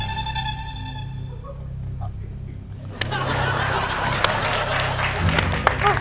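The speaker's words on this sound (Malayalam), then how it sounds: "ഒരു ഉഗ്രം കൈയടി കൊടുക്ക്" Studio audience on a Malayalam TV game show breaks into broad, sustained applause after a sustained tone fades, the clapping dense and fairly loud with voices mixed in.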